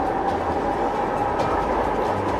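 An LRT Line 1 light rail train runs on the line out of Dr. Santos Station in Parañaque, giving a steady, continuous rumble and rolling hiss with no voices.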